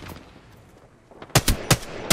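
Gunfire in the video game Apex Legends, a rapid cluster of loud sharp shots bursting in after a quieter stretch of faint background noise, several close reports spaced unevenly near the end.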